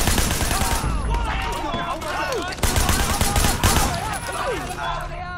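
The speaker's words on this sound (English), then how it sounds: "Did you shoot Uncle Po?" Rapid bursts of gunfire ring out in the video game Sleeping Dogs, loud and sustained across the whole stretch, with game characters shouting over the shots.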